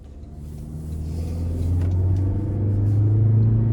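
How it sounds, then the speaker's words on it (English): A 2025 Toyota Corolla Cross XLE AWD drives on the road, heard from inside the cabin as a steady low engine and road rumble that rises gradually as the car picks up speed, without talk. "starting the test drive in this Corolla Cross here, the pickup is surprisingly good"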